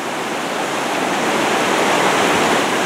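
A river rushing beneath a swaying hammock suspension bridge, a loud, dense, continuous roar of turbulent water with no voices.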